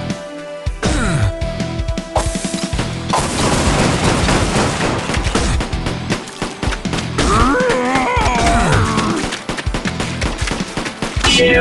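Dense, continuous bursts of gunfire from guns in the game Age of Zombies, loud and sustained with rapid shots, booms and clattering effects layered over game music.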